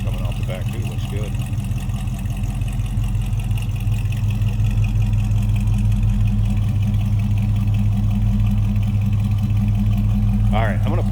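A 1980 Chevrolet Camaro Z28 idles steadily with a deep, even exhaust burble close by, the low rumble holding constant throughout while a voice speaks briefly near the start and end.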